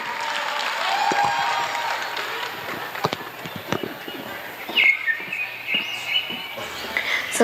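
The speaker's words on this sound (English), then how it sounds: "Give them a round of applause" An awards-night audience at a film festival applauds the winners, loose clapping with scattered sharp claps and some cheering or whistles mixed in, rising and falling unevenly.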